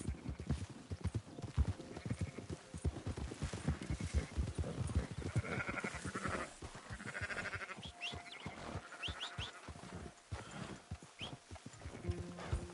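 Steady horse hooves clopping at a walking rhythm in the video game Red Dead Redemption 2, with occasional animal bleats and whinnies mixed in, continuous and moderately loud throughout.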